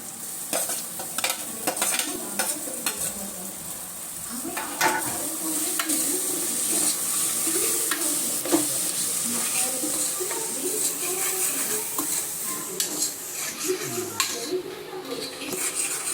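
Vegetables stir-frying in a pan as cabbage, capsicum and tomato go in on top of sautéed potato and onion, a steady close sizzle with stirring and occasional utensil scrapes throughout.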